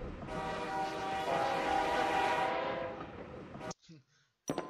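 A train in the video game Suicide Guy roars past with a loud, sustained horn-like tone and rumbling wheels for about three seconds, then cuts off abruptly into near silence and brief thumps.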